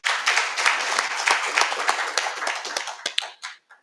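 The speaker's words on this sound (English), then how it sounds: "let's give them a round of applause" Applause from a public lecture audience at an Africa Public Service Day event, a dense burst of many hands clapping that thins out and stops near the end, fairly loud with no talk over it.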